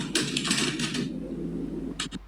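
Rapid keyboard typing clatters for about a second over a steady low hum, then two brief final keystrokes follow after a pause.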